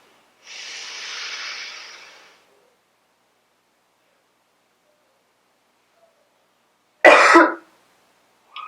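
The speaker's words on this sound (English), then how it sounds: "Now the 6th time where we're coughing out." A long, breathy exhale hisses out near the microphone during a breathing exercise, followed after a silent pause by one sharp, forceful cough-like burst of breath.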